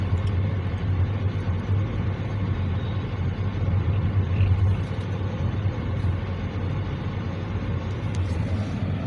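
Continuous road traffic in Tagaytay City, a steady low rumble of cars and heavier vehicles passing nearby, swelling slightly midway and otherwise even, with no voices.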